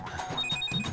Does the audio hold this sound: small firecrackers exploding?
no